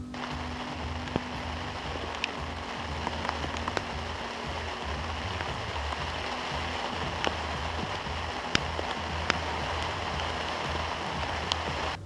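Steady rain falls outdoors near timber, a soft continuous patter with scattered sharper drops and a faint low rumble underneath, no voices.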